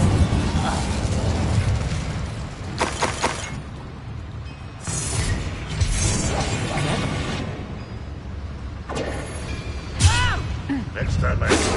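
Hogwarts Legacy combat with the Incendio fire spell: several bursts of whooshing, crackling fire blasts and impacts over a constant rumble of game noise, with voices heard between the blasts.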